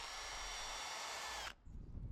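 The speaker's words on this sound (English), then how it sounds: "drill 2 6mm holes" A power drill bores 6mm holes into a wall for a camera mount, a loud steady whine running for about a second and a half before cutting off abruptly into quiet handling noise.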